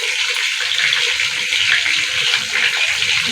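Water runs steadily over cut cauliflower to soak it, a continuous splashing gush at a fairly loud, even level with no pause.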